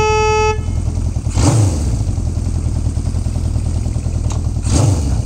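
A warmed-up 1974 Honda CB550 Four motorcycle engine runs steadily and loudly throughout, with a low, even drone and a couple of brief louder swells.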